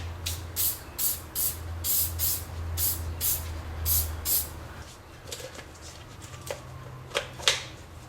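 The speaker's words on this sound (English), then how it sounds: "use silicone spray." Repeated short hissing bursts of silicone spray lubricant during a car front strut replacement, several quick sprays in a row, close up over a low hum, then a few scattered softer hisses.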